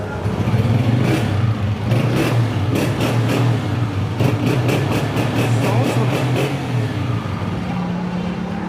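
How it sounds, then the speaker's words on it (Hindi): A 2020-model Honda 125 motorcycle engine runs nearby at idle, a steady low throb with repeated sharp throttle blips, and faint background voices. "इंजन चेक करो बुखारी साहब, ये लो। वाह, बाइक स्टार्ट खड़ी है।"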